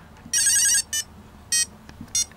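Shrill electronic beeps from a Real Ghostbusters Ghost Blaster LCD handheld game: one longer warbling tone followed by three short bursts at irregular intervals, close and clear over a quiet background.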